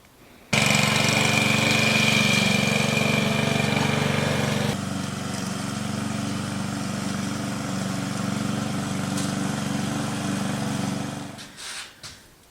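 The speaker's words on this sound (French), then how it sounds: "on a enfin une tondeuse montée correctement" A newly assembled lawn mower's engine bursts into a loud, steady buzz, eases slightly lower after a few seconds, runs on evenly, then sputters and cuts out near the end.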